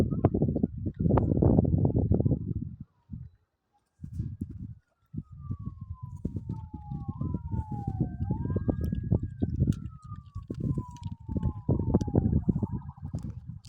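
A fire service vehicle's siren wails in rising and falling sweeps at a moderate distance during a hillside fire in Saudi Arabia, under heavy crackling and rumbling noise that drops out briefly.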